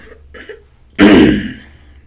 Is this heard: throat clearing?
yes